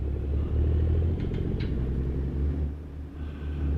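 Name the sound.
International 9900i truck engine rumble in a video game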